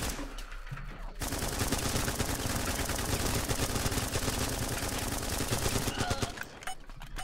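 Sustained automatic gunfire from a large battle in the video game Running With Rifles crackles in dense, overlapping rapid bursts for several seconds, starting and stopping abruptly, moderately loud and without talk.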